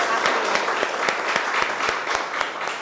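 Applause at a seminary gathering welcoming new students, with steady, dense clapping from a roomful of people and sharp individual claps standing out, fairly loud and continuous throughout.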